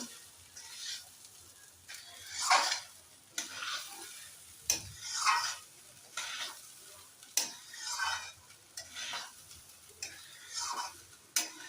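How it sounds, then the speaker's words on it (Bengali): A utensil scrapes and stirs pulao rice in ghee in a pan, in repeated rhythmic strokes with a faint sizzle between them, close and fairly quiet. "পোলাওটাকে আমি এরকম ঘিয়ের সাথে নেড়ে চেড়ে নেব।"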